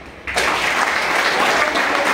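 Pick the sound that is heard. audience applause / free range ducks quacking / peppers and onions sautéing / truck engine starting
audience applause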